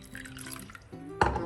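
Water is poured into a bowl of curd for a Kerala tomato moru curry, a short splashing trickle that swells into a louder pour near the end, close and alone.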